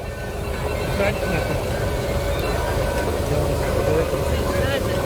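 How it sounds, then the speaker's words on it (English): Steam showman's engines rolling past at a traction engine rally, giving a steady, fairly loud mechanical rumble and chuff with a busy crowd around them and people talking nearby. "you can see the big ones going through now are showman's engines"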